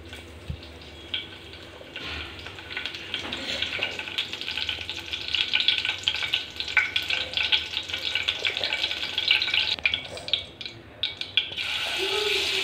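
Curry leaves crackle and sizzle in hot oil in a pan for a prawn fry, a dense, hissing spatter that swells midway and stays loud and close before easing off near the end.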